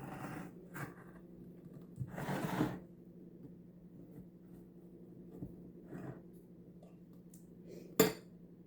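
A knife or fork cuts into a mini chocolate chip cookie cake baked in a toaster oven, with a few scattered scrapes, a longer rasping cut and a sharp clink against the plate near the end, over a low hum.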